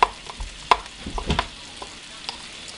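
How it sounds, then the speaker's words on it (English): A spoon stirs a thick homemade mayonnaise-based sandwich spread in a bowl, giving a few sharp taps against the side and soft, wet scraping swirls, close and without speech. "Give it a nice stir"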